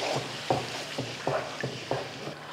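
Yogurt being stirred into a chicken and chickpea gravy in a pan, with rhythmic scraping strokes about every half second over a continuous low sizzle, no talking.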